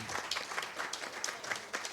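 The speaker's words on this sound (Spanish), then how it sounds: "Este fuerte aplauso de este público tan especial en esta noche" An audience at an archaeology congress gives a short, steady round of applause, many hands clapping together at close range for a couple of seconds.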